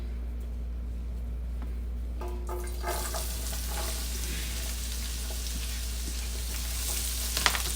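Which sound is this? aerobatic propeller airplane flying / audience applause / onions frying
onions frying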